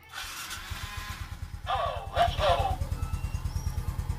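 A Smash motorcycle's small engine turns over and settles into a steady, rapid idle putter, close by, with a brief louder surge in the middle.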